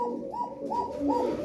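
Pigeons in a loft coo in soft, repeated rolling calls, three or four close throaty phrases in quick succession.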